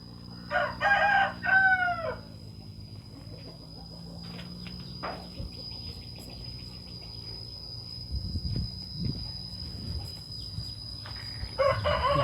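Chickens and roosters at a small rural Thai fighting-cock pen, a rooster crowing loudly twice near the start and again at the end, with clucking, scratching and a steady insect drone throughout.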